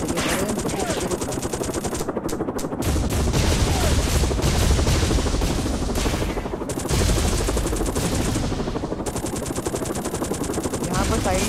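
A gunship fires in the video game Gunship Strike, sending rapid, continuous machine-gun bursts that rattle almost nonstop. Heavier booming impacts land around the middle, and someone talks over the shooting.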